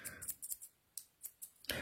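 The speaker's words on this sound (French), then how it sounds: "C'est des ciseaux comme ça." Scissors handled during a cross-stitch craft session, quiet crisp snips and clicks in irregular bursts with brief pauses, close and faint, no talking.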